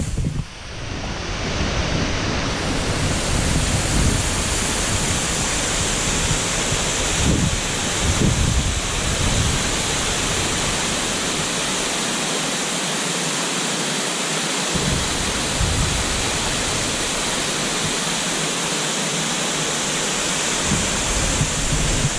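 Grey Mare's Tail waterfall roars as a loud, steady rush of falling water, broadband and continuous throughout, with some wind buffeting the microphone and no voices.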